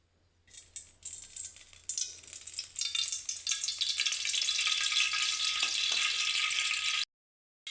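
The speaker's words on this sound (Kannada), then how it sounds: "ಇವಾಗ ಅದಕ್ಕೆ ನಾನು 3ರಿಂದ 4 ಸ್ಪೂನ್ ಆಯಿಲ್ ಸೇರಿಸ್ಕೊತಾ ಇದ್ದೀನಿ." Three to four spoons of oil poured into a hot pan for masala chitranna, bursting into a loud, close, steady hiss and sizzle after a brief clatter, holding constant for several seconds before cutting off abruptly.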